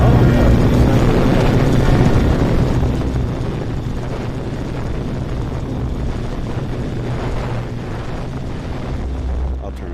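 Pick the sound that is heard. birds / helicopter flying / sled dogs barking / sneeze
helicopter flying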